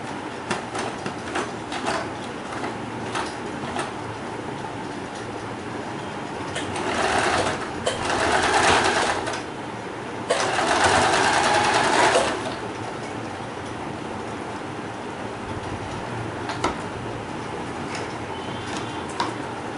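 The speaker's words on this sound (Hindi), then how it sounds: "फ्रंट पीस को एक के ऊपर एक रखकर अब मैं यहाँ आगे सिलाई लगा लूँगी" A sewing machine stitching satin ribbon front pieces of a small doll dress, running in a fast steady whir for the whole stretch with two louder bursts in the middle, close and alone without talk.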